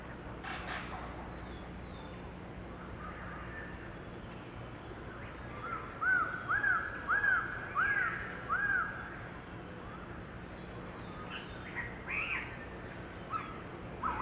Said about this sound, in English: the bird voices they heard throughout the forest